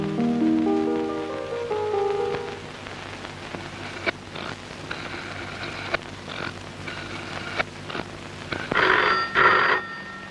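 A telephone rings indoors in a dramatic movie scene, a few bursts of electronic ringing at a steady rhythm, with a quieter stretch of faint clicks and rustles between, and the tone returning loudly near the end.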